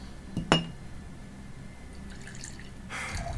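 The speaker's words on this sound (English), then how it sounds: "Pouring me a drink." A drink is poured into a glass in the video game Metal Gear Solid: The Twin Snakes: a single bright clink of glass early on, a quiet pause, then a soft trickle of liquid filling the glass near the end.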